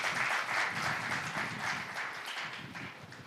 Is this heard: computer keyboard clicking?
no